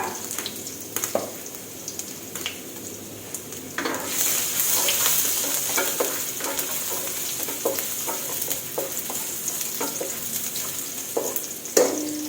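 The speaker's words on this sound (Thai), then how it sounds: "ใส่กระเทียมลงไปผัดจ้า" Garlic stir-frying in oil in a pan for a fresh prawn and broccoli dish, a steady bright sizzle with stirring scrapes and clatter, getting louder midway, close and alone without talk.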